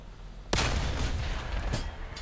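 A single heavy tank cannon shot from War Thunder, fired by a British tank, blasts in abruptly after half a second of quiet, followed by a rumbling decay and a fainter secondary crack.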